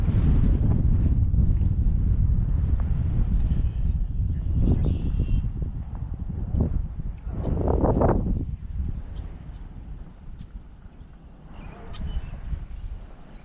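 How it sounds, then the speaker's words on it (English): Strong wind buffets the microphone in heavy, continuous rumbling gusts that ease and surge throughout. "Now it's getting windy."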